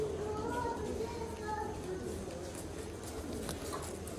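Pigeons cooing in low, soft burbling calls, with children's voices and general background chatter going on throughout.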